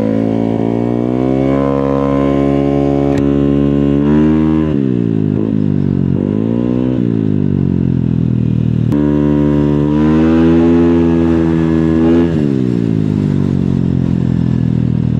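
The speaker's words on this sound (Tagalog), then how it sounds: "ibang klase motor yan, ang ganda" A Yamaha Aerox 232cc scooter engine hums steadily and loud, its pitch rising and falling as the rider shifts and accelerates, with no talking.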